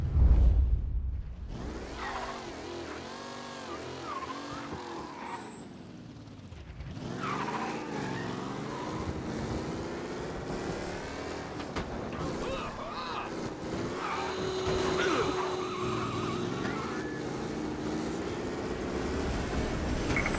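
A race car speeds through city streets in Mafia: Definitive Edition, its engine droning and revving steadily, with tires skidding and whooshing passes over a continuous bed of traffic-like noise.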